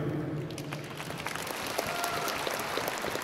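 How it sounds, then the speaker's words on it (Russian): An audience greets a guest with a round of applause, a continuous, moderately loud wash of many hands clapping, with a voice faintly audible at the start. "Встречаем бурными аплодисментами."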